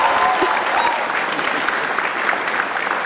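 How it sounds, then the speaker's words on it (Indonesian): Studio audience on a television talk show applauding Indonesian presidential candidate Jokowi, a loud, sustained wash of many clapping hands with crowd noise mixed in. "tepuk tangan dong buat Pak Jokowi"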